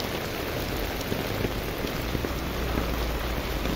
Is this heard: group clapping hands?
no